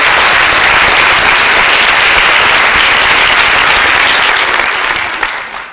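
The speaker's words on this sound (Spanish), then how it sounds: "un aplauso para el doctor Sergio Varela" Audience at a political science faculty forum gives a steady round of applause for a speaker, dense clapping that holds evenly and then tapers off at the end.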